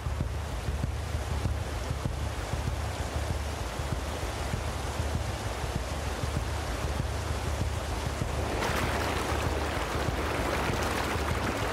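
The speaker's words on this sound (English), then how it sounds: "These canoes are open, and you need to treat even minor rapids with respect." River rapids rush around an open canoe on a wilderness journey: a loud, steady roar of churning water mixed with wind noise on the microphone, growing rougher toward the end, with no voices.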